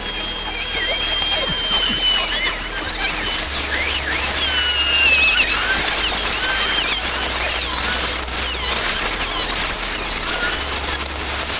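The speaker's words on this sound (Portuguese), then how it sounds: "Agora eu vou fazer o corte longitudinal." A manual cutting machine makes a lengthwise cut, giving a loud, continuous high-pitched squealing and grinding with shifting whines and a steady low hum beneath, heard close and without talk.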